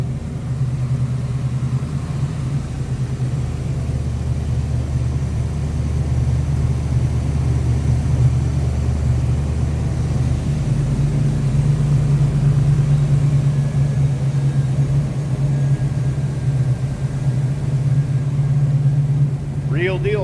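A 1970 Chevrolet Camaro Z/28 engine idles with a steady, deep rumble that holds for the whole stretch, close and loud, with no changes in revs.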